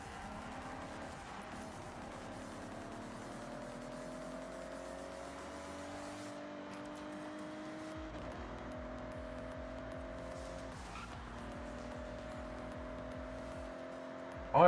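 A Toyota Supra drives in the racing game Forza Horizon, its engine droning steadily with rising and falling revs through gear shifts, quiet and continuous with no talk.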